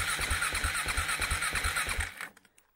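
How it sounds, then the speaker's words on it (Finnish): A cold moped engine is cranked to start, with a rapid pulsing chug of starter strokes repeating for about two seconds before cutting off abruptly, loud and close with no talk. "Kokeillaan, lähteekö mopo käyntiin."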